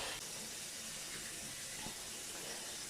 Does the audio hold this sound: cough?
no